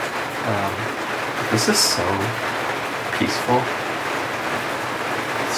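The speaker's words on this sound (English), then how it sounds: "I'm sure you guys can hear the rain right now." Rain falls on a roof in Japan as a steady, fairly loud hiss of patter, heard under someone talking quietly.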